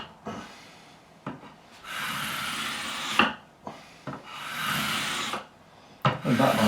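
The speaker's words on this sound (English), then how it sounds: "400 grit sandpaper." On a Fender Strat being refretted, 400 grit sandpaper is rubbed across the frets. Several rhythmic rasping strokes sound close up, separated by short pauses.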